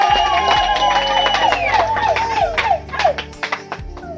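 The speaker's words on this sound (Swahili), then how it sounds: "Na wote tupige vigelegele." A church congregation ululating at a child dedication: high, warbling trilled cries from many voices rise together with some clapping, loud and close, the trills sliding and fluttering over the crowd.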